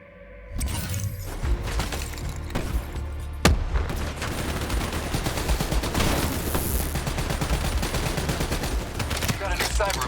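Gunfire in Call of Duty Black Ops 3 opens with a sudden burst and settles into sustained rapid automatic shooting with sharp cracks and shattering impacts, dense and close over a low rumble.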